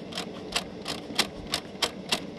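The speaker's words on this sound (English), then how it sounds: "you can hear clicking" Jammed tape mechanism in a GPX Q914 boombox, clicking in a steady rhythm of about eight sharp ticks over two seconds, close and fairly quiet against faint motor noise.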